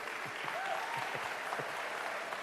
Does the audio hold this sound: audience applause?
yes